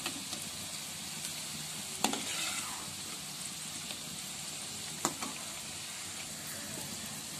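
A chicken snack fries in a pan with a continuous soft sizzle throughout, broken by two sharp scraping stirs of a utensil against the pan.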